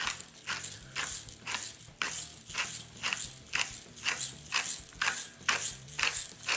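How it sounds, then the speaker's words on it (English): Large cracked black pepper ground from a mill into a cream cheese and smoked salmon dip, a steady run of rhythmic crunchy grinding pulses, close and alone. "I'm going to put in quite a bit of this large"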